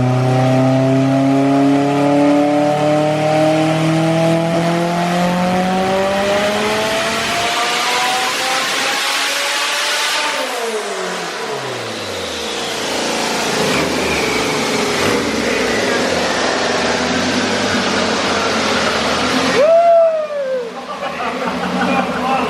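An 805-horsepower race car prepped for a PSCA race, engine cooled down, revs hard with rising pitch through the gears, then drops away and climbs again, loud and sustained over about twenty seconds.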